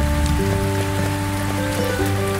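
Rain in the video game Cornucópia, a steady soft hiss of falling drops that runs unbroken the whole time beneath sustained game music tones.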